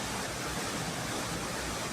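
Flooded Courtallam waterfalls swollen by heavy rain pour with a dense, unbroken roar of rushing water, steady and enveloping with no voices present.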